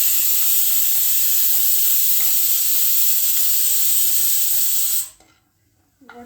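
Homemade chicken haleem stirred and frying in a pot, a steady loud sizzle with rhythmic scraping strokes for about five seconds, then cutting off abruptly to near silence with a faint clatter at the end.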